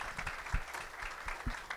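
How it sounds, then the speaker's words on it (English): An audience at a genocide victims commemoration event claps as a moderator walks up to the stage, a short burst of scattered, moderately loud hand claps. "if you guys could give her a round of applause as she makes it up to the stage"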